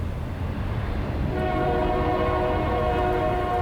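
A train rumbles past in Marfa, Texas, its horn sounding in sustained tones that swell and hold over the low rolling noise of the cars.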